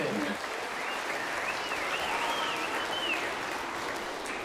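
A theatre audience applauds steadily, a dense continuous wash of many hands clapping with a few whistles rising above it, sustained at an even loudness throughout.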